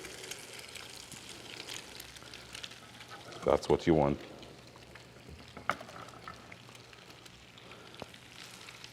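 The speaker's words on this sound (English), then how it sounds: "You're hearing that sizzle?" French toast made with coconut and pine sizzles steadily in a hot pan, a soft continuous fry with a few louder crackling bursts, while someone talks over it.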